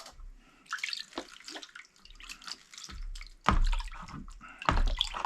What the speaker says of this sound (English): I'm just gonna transfer all this tailings, if you will, on down into this other pan here.